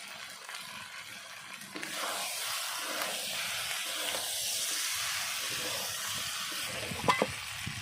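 Chicken and raw jackfruit curry sautés in a pan with a continuous soft sizzle and frying hiss, stirred with a few louder scrapes near the end.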